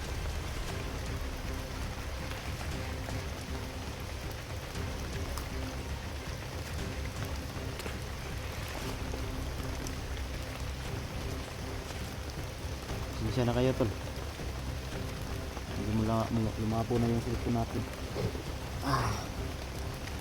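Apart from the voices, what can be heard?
rain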